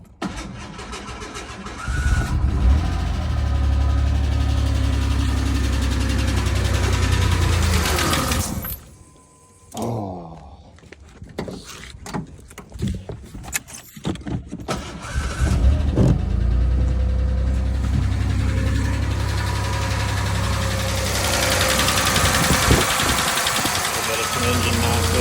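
An old Ford Bronco cranks and starts on stale gas, then settles into a loud, steady idle with an uneven knock, broken by a few seconds of quieter clunks and movement before the engine noise returns.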